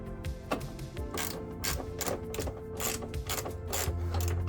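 Bolts being tightened down on an Apex Engineered front strut brace in a 1980s Datsun 280ZX Turbo, with a ratchet clicking in quick, steady bursts close up and a low hum near the end.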